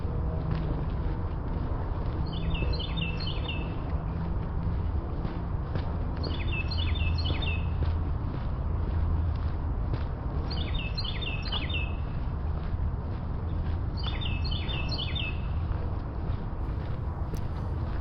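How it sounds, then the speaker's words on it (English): A bird repeats a short rapid chirping phrase four times at regular intervals, clear over steady outdoor background noise during a walk on an island park with a view of Philadelphia. "If you know what kind of bird that is chirping in the background, please leave a comment"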